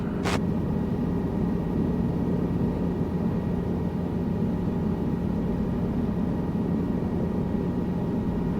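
A helicopter in Microsoft Flight Simulator gives off a steady, droning engine and rotor hum that holds an even loudness throughout, with a brief faint chirp at the very start.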